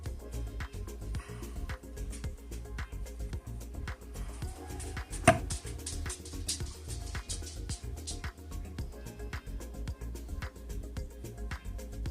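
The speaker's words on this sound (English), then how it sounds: "I cut up 3 potatoes here" A knife chops potatoes on a board, a steady, evenly spaced run of close, soft thuds continuing for about twelve seconds, with one sharper knock near the middle and no talk.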